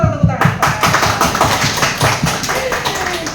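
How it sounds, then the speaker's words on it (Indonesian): An indoor audience at a talk on mental health in civil service talent management breaks into brisk applause, dense close clapping throughout, with a speaker's voice over the start. "luar biasa. Tepuk tangan."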